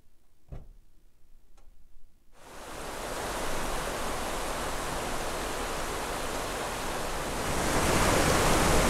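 At Zapata Falls, after a couple of seconds of near quiet with a few faint ticks, a loud, steady roar of rushing waterfall sets in and continues unbroken.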